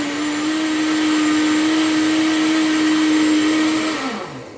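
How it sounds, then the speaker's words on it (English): Electric blender chopping fresh coconut pieces with water, a loud steady motor whine that runs unbroken for about four seconds, then winds down and cuts off near the end. "put it in the blender with some water, and you blend it"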